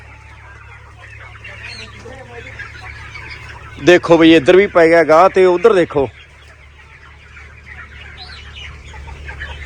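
Chicks and chickens released from trays on a desi poultry farm break into a loud two-second burst of clucking and squawking, with someone talking before and after.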